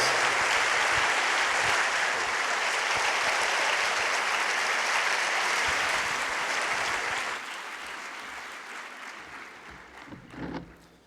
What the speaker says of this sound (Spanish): voy a dar paso rápidamente a Aldo con un fuerte aplauso